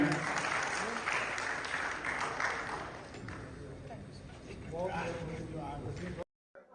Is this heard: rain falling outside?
no